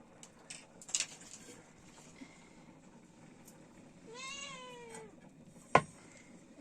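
A single drawn-out cat meow rises and falls near the middle. It is fairly faint and set among quiet scattered outdoor clatter, with a sharp knock shortly after.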